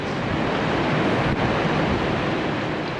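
High, rough North Atlantic waves off Nouakchott, Mauritania, where the sea floor shelves abruptly, roar as a constant broadband rush of surf, loud and close with wind buffeting the microphone.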